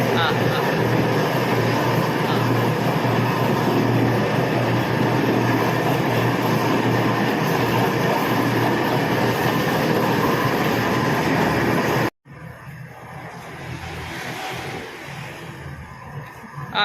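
An oil mill machine grinding, with oil and oilcake dropping out: a loud, steady mechanical rumble and clatter that cuts off abruptly near the end, leaving a quieter hum with voices.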